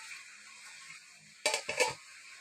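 A lid settles onto a kadai holding salted kochu shaak greens: two quick metallic clanks close by, after a quiet stretch.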